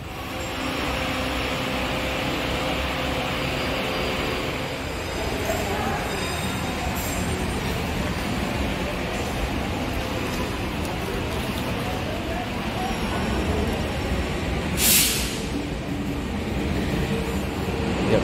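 Steady low rumble of the Baturaden passenger train idling on track 1 at Purwokerto station, with a broad wash of station noise and a brief hiss burst near the end.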